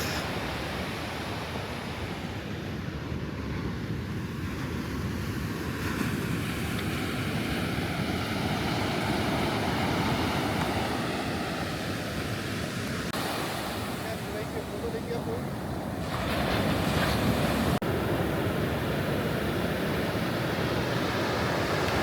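Ocean surf rolls onto a Goa beach in a constant broad roar, mixed with gusty wind buffeting the microphone, with no clear talking.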